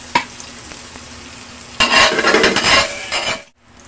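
Garlic hits hot margarine in a pan, giving a sudden loud sizzle after a quiet start with a light clink, frying steadily for about two seconds before cutting off.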